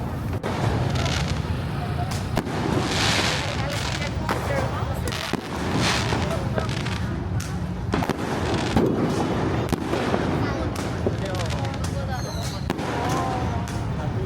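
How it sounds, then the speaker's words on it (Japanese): Rocket fireworks whistle up and burst in a dense, continuous barrage at the Yi Peng lantern festival in Chiang Mai, Thailand, pops and bangs overlapping nearby and farther off, with crowd chatter underneath. "ロケット花火を使っている人が多くいました。"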